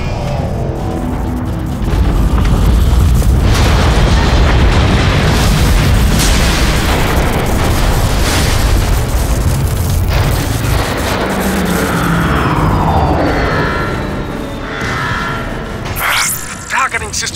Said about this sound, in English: The neutron gun is activating!